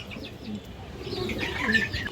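Pure Pakistani Rampuri pigeons coo softly and continuously nearby, with a few light chirps mixed into the low, burbling calls.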